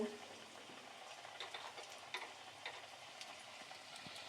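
Balls of cabbage and chicken pakora fry in hot oil with a quiet, continuous crackle and small ticking pops. The sound is soft and close.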